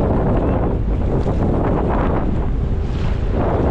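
Strong northeast monsoon wind at sea, with fishing from a small boat, roars loudly and continuously, buffeting and rumbling without a break.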